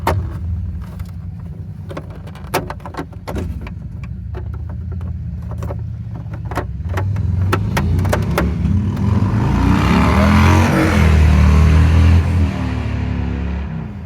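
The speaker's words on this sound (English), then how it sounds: "Sorry, we had a motorcycle drive by." A motorcycle rumbles past, its engine noise building and swelling to a loud peak before easing off, with wind buffeting the microphone.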